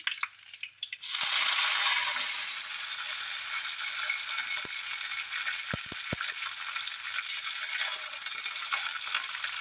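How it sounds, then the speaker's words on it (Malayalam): Mustard seeds pop and fry in hot oil for a no-onion, no-garlic chickpea curry. After a short quiet start, a loud, steady sizzle sets in close up, with a few sharp pops and clicks scattered through it. "കടുക് പൊട്ടുന്നുണ്ട്"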